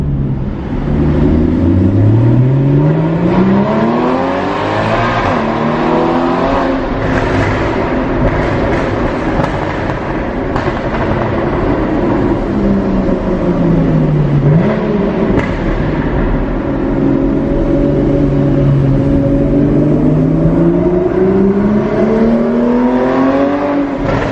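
A loud Porsche Cayman S revving in a Monaco tunnel, its engine note swelling and falling repeatedly in pitch over a continuous, booming, reverberant roar that lasts the whole stretch without speech.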